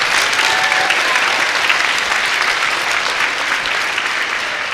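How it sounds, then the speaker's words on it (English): Audience applause for a teacher at a school district 4th and 5th grade chorus concert: a loud, dense, steady clapping from a full crowd that fills the room throughout without letup. "please give Mrs. Infranco a round of applause"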